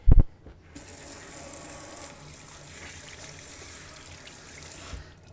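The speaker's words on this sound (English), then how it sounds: "Let me wash off a zucchini." Tap water runs into a kitchen sink while a zucchini is washed under it: a steady, close splashing gush that starts after a soft knock and continues evenly for several seconds, with no talking.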